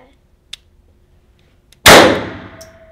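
A single loud handgun shot cracks out and rings off a steel target, with a long decaying metallic ring after it, preceded by a few faint clicks and a quiet room.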